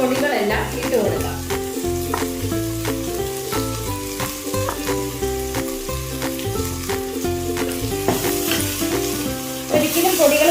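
Spice powders sizzle and fry in a pan for a Kerala-style chicken curry, with continuous crackling and scraping from stirring, heard under a steady backing of music.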